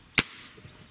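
A single sharp, close report from a Hatsan 95 Vortex break-barrel air rifle firing, a crisp crack with a short ringing decay into quiet.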